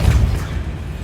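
The Depulso spell is cast in the video game Hogwarts Legacy, a short, heavy boom with a deep thump that fades within a second.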